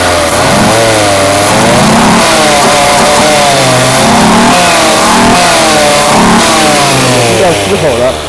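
A 1970s–80s Mercedes-Benz W123 280CE, Japanese-spec, with a freshly rebuilt engine, revved in short loud pulls that rise and fall repeatedly while someone talks close by.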